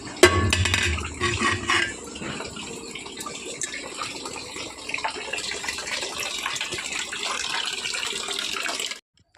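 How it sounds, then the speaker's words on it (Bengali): Water from a tap pouring into a metal cooking pot, a steady rushing splash with clanks and knocks of the pot near the start, close and continuous until it stops abruptly. "কলে যাচ্ছি জল আনতে"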